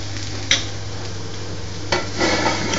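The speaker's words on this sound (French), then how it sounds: "On sert avec une cuillère en métal pour bien sortir ce qui est accroché au fond" Metal spoon scraping crusted paella off the bottom of the pan, a few sharp scrapes and knocks against the metal over a steady low hum and faint sizzle, close up.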